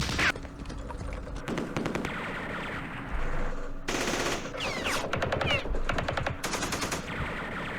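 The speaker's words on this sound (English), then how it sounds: "Ran into machine guns. Okay, so we found machine guns." Machine gun fire in a Vietnam War strategy game set in the battle of Hue, with sustained rapid bursts of automatic fire and scattered shots, loud and dense, repeating through the whole stretch.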